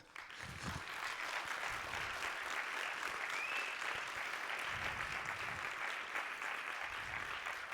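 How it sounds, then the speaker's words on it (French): Sustained applause from a live audience at a French talk, broad and steady clapping filling the whole stretch at even loudness, no voices on top. "n'hésitez pas à l'applaudir pendant que je cours"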